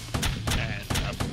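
Repeated gunfire bursts from a double gun in the tower-defence video game Ballistic Attack, three or four sharp loud volleys at a steady rhythm with no talk.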